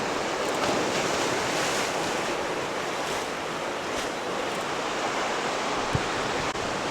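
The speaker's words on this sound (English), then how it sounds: "I could just sit here all day and watch these waves come in." Steady roar of ocean surf breaking on the shore, broad and continuous, with a light wind rush over the microphone and no voices.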